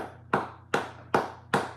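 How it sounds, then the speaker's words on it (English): Four slow, separate hand claps, evenly spaced and fairly close, a small token round of applause with no other voices. "we have to give a little applause to Taylor, Robert Taylor"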